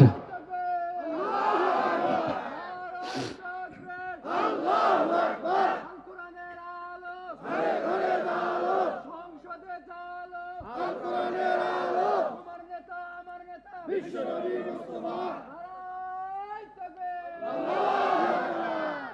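A large gathering at a Bangla Islamic religious sermon shouts in unison in repeated bursts of cheering, each surge rising loud and then fading into a murmuring crowd before the next.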